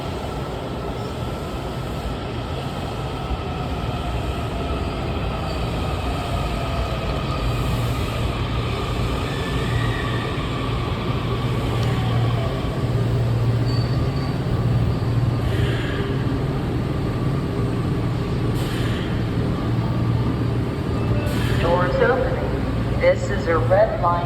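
Automatic DC Metro train running toward Glenmont, a steady loud rumble of wheels and motors throughout with rattling and squeaks building near the end, a voice speaking over it.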